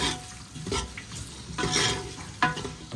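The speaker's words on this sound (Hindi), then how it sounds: "तो पहले हम प्याज को कर लेते हैं फ्राई।" Onions frying in mustard oil and ghee, a close, continuous sizzle broken by bursts of stirring and scraping in the pan, with no voices.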